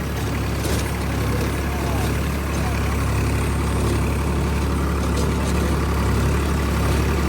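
A car engine runs steadily as the accelerator is held down during a driving lesson, a constant loud hum with a dense low rumble, close and unbroken, with no speech over it.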